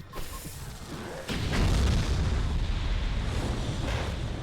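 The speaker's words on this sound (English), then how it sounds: "Supernova! It's a screen nuke." A Supernova screen-nuke explosion in Jak 3 starts with a sharp blast, then a deep, heavy rumbling boom that swells and lingers loudly for several seconds.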